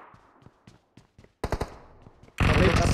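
Gunfire in a multiplayer shooter game, starting as scattered single shots, then a tight burst of rapid rounds, ending in a loud sustained blast of automatic fire that runs to the end.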